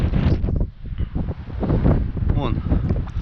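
Wind gusting over a taiga lake in spring, buffeting the microphone with low rumbling bursts, with someone talking over it nearby.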